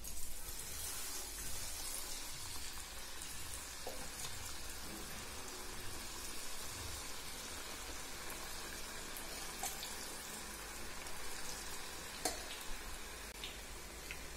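Potato and onion pakoras frying in hot oil in a kadai, a soft, steady bubbling sizzle with faint crackles throughout, quiet and unbroken.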